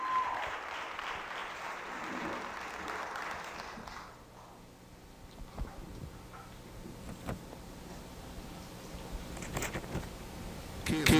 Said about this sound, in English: Let's put our hands together for the Faith Place.